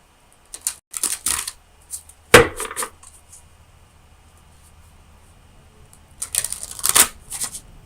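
Oracle of Visions cards shuffled by hand, several short crisp bursts of riffling and flicking, with one sharp snap as a card is pulled, close and clear with quiet pauses between.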